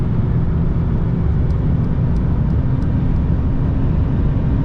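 2019 Mercedes S450 coupé 4matic (367 hp) accelerating hard at high speed on a slight incline, about 100-200 km/h; a loud, steady low engine drone mixes with dense road and wind roar throughout, with no talking.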